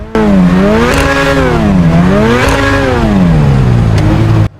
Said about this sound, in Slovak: A počujete ten motor, jaký je dobrý?